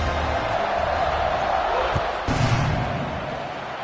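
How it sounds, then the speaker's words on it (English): A stadium crowd at a football game keeps up a loud, steady buzz of many voices, with a brief thump partway through. "this crowd is buzzing after that last score."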